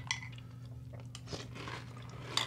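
Close, crisp crunching and chewing of a spicy cereal, a few sharp bites followed by steady munching with no talk.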